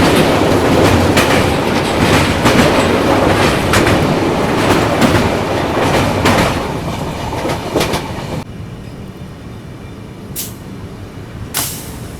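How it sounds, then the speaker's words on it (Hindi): Inside a 3AC coach of the 12423 Dibrugarh Rajdhani Express near Kokrajhar, Assam, a loud, steady rumble carries rhythmic wheel clicks, easing quieter near the end with a couple of brief sharp bursts. "अभी अपनी ट्रेन पहुंच चुकी है कोकराझार रेलवे स्टेशन"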